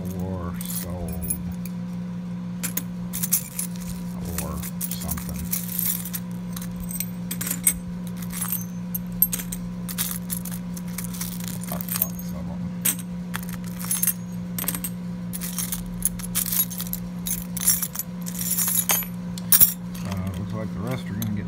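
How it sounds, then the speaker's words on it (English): A bunch of brand new silver pre-cut keys, made for new locks and set aside for scrap, jangles and clinks repeatedly up close. A steady low hum runs underneath and someone talks intermittently. "Look at all those brand new silver keys."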